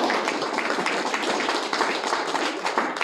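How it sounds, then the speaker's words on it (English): An audience applauds incoming career and technical education students at a school signing day ceremony, with dense, sustained clapping from many hands running evenly throughout. "let's give a round of applause"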